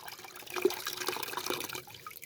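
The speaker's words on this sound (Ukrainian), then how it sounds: "набираю так в пакетик ще води" Water runs into a small plastic bag while rinsing it out during strawberry plant treatment, a close, gurgling trickle with light splashes that swells briefly and then thins out.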